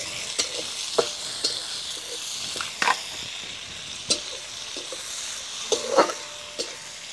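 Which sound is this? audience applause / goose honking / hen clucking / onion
onion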